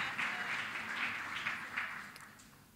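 Light, distant applause from an audience at a graduation ceremony, a steady soft patter of many hands over just under three seconds, fading slightly toward the end.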